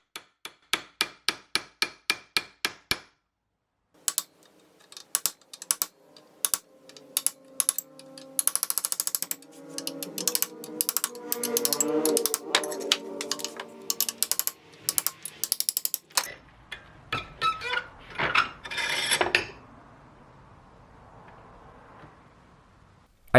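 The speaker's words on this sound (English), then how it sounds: "I'm using a chisel to peel away a strip of metal so that the tension" A chisel is hammered along a cut to peel a strip of metal from a Golf Mk1 car body in a workshop. A quick run of sharp metallic taps gives way to a longer stretch of dense, ragged striking and scraping, up close and fairly loud.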